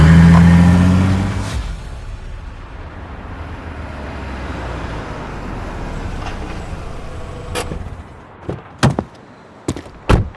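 A car door shuts with a low thud as an engine rumbles, then the car pulls away and fades, followed by a few sharp knocks and clicks near the end, as a sound effect without speech.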